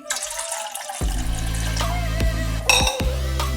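Water poured into a pot to make milk tea, a sudden strong splashing stream that starts after a second and runs steadily with small gurgling bursts near the end, close and fairly loud, with nobody speaking.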